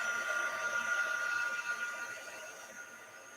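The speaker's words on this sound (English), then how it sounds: "let's get back to our heat embossing" A heat gun used for heat embossing on paper blows with a steady, faint whirring hiss that continues without a break.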